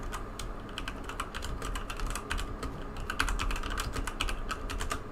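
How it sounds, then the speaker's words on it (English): Rapid, intense clacking of keys on a computer keyboard, a dense run of close keystrokes with no voices, under a low steady background hum. "I hear intense typing and nothing else."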